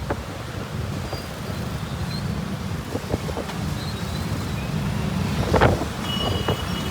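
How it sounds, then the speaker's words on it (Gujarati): Strong storm wind buffets the microphone near a bridge at Amroli, a continuous low rumbling roar with passing traffic noise mixed in and a few faint higher tones. "ફૂલ પવન છે"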